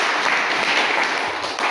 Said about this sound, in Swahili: Sumpe Yesu makofi.